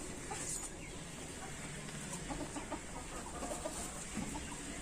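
Backyard farm chickens cluck steadily in a busy flock, with overlapping clucks throughout and faint bird calls above.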